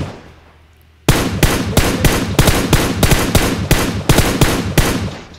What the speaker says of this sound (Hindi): तुम ये सोच सोच के गोलियां क्यों मार रहे हो